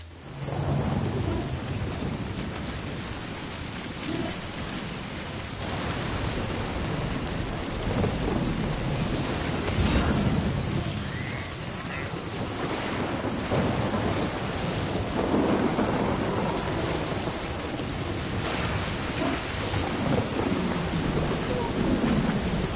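A steady thunderstorm from the Death Stranding game plays throughout: heavy rain roars continuously with low rolling thunder swelling now and then, while a voice is faintly present underneath.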